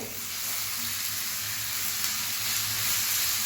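Fenugreek leaves go into softened tomato in a hot pan, giving a continuous close sizzle and fry hiss with faint stirring underneath and no talking.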